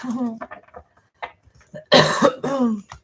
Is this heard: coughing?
yes